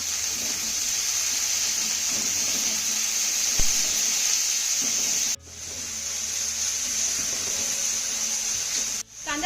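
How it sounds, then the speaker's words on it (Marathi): Sliced onion sizzling with garlic in a hot pan, a steady bright hiss throughout with small pops and two brief dips where the sizzle briefly quiets. "लसूण आपला चांगला परतून झाला की यामध्ये आपल्याला एक उभा चिरलेला कांदा घालायचा आहे"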